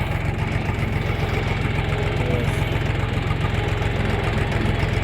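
A Kentavr 244SX tractor idles at about 700 rpm with no throttle, a loud and steady low diesel chug with an even, rapid pulse and no voices.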